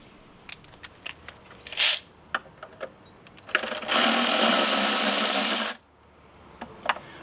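A power driver spins stainless steel screws out of an aluminum outboard motor housing in a loud burst lasting about two seconds. Scattered short clicks and taps of handling come before and after it.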